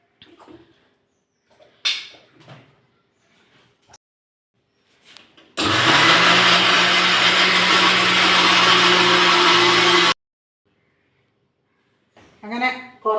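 A blender grinds cooked beetroot and dates for a pickle, running loud and continuous for about four and a half seconds, with people talking before and after the burst.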